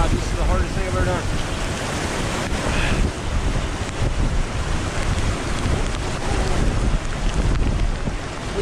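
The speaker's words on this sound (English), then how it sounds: "It's really pouring now." Heavy rain pours down steadily outdoors near a campsite, a dense, loud, unbroken hiss mixed with wind buffeting the microphone, with no break across the whole stretch.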